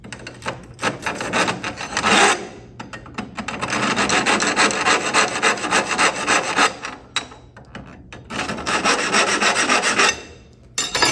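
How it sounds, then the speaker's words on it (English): A hand file rasps back and forth across a welded seam on square steel tube, steady continuous strokes close and loud with brief pauses around two and seven seconds. "you would have to completely file that welded seam down"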